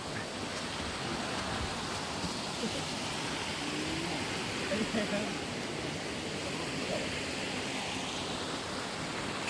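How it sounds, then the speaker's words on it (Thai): A flowing forest stream in a conserved woodland area, a steady broadband rush of water running continuously throughout, with faint voices in the background. "ได้ยินเสียงลำธารน้ำไหล"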